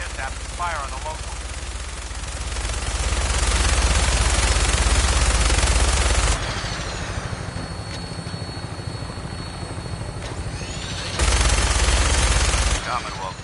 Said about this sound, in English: That minigun in front of you is loaded and ready to fire.